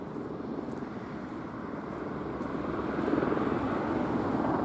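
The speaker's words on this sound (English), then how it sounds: "A helicopter up there somewhere." A steady low rotor drone hangs in the air, growing slightly louder toward the end as the helicopter moves overhead.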